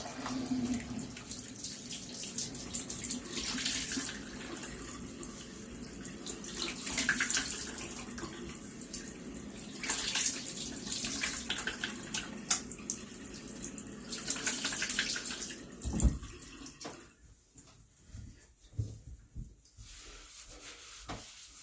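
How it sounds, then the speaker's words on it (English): Cold water runs steadily from a tap while a shaving brush head is wetted and rinsed, a continuous close hiss and splash that stops abruptly near the end, leaving a quieter tail with a few drips. "wet the head, rinse off with some cold water here"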